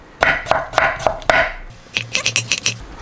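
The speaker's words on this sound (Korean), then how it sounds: "이렇게 4등분을 갈르세요 갈라가지고 나박나박 썰어줍니다" A knife chops bottle gourd into thin square slices on a board, about four slower firm strokes followed by a quicker run of six or so lighter cuts, close and crisp with no talk.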